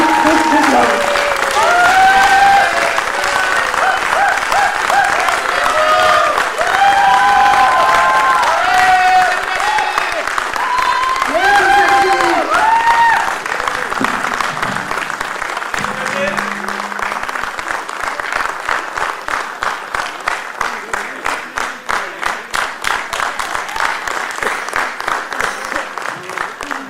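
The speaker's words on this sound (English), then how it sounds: "Please give a big round of applause to her." A long, loud round of crowd applause at a foundation day celebration, steady at first and thinning toward the end into fewer, sharper claps, with music and voices faintly underneath early on.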